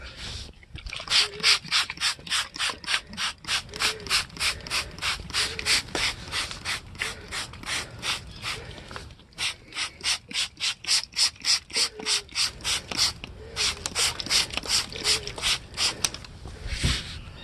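A hazy car headlight lens is hand-sanded in quick, regular back-and-forth strokes, a close rasping scrub in steady rhythmic bursts with brief pauses between runs.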